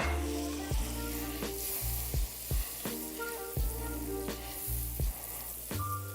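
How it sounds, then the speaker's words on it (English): Butter melts in a skillet with a steady, close sizzle. Sharp spoon or spatula knocks against the pan come about once a second over a low hum. "First thing I'm gonna do is melt my butter"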